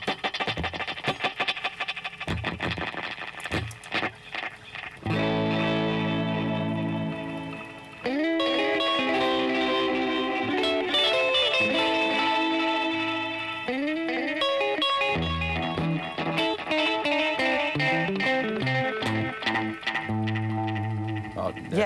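A vintage tape delay echo unit with multiple repeat heads and reverb, processing sustained instrument chords and notes into layered, smeared echoes that play continuously at moderate level with no talking.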